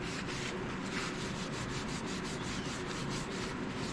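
A cloth or pad rubs steadily back and forth over a restored Craftsman 5243 bench vise, a close, continuous scrubbing with a faint rhythmic pulse and no voices.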